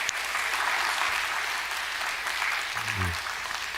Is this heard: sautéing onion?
no